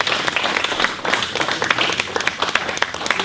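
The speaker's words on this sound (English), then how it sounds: "give these guys a hand of applause" Audience at a fire station wildfire preparedness town hall claps steadily for the local firefighters, a dense, continuous patter of many hands filling the room for a few seconds.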